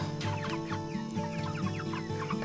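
Chickens cluck steadily and close up as they are moved in a mobile coop on a homestead, a dense overlapping chorus of short calls.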